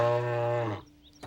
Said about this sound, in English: It sounded like a cow.